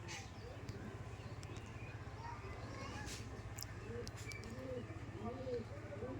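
Pigeons at a home loft coo softly and repeatedly, faint and somewhat distant over a steady low hum, with no talking.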